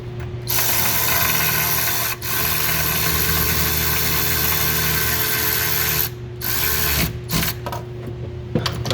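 A ratchet tightens bolts on a Ford 6.7 diesel engine in a crisscross pattern, a steady close mechanical whirring clatter running for several seconds with a few short pauses, then choppy bursts near the end.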